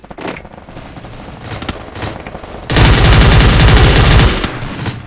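Gunfire from the mobile shooter Free Fire: scattered shots at first, then a loud, sustained automatic burst rattling close by before it cuts off.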